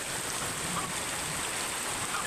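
Steady rain falls on a cool, wet morning in a backyard, a soft continuous hiss of drops spread evenly throughout, with no other sounds standing out.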